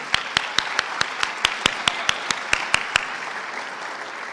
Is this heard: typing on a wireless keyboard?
no